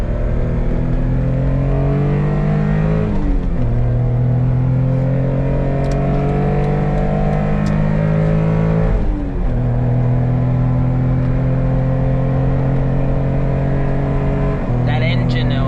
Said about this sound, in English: That engine though, man, it makes me not want to shift gears.